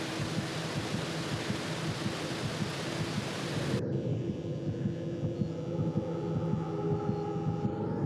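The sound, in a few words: heartbeat sound in a found-footage video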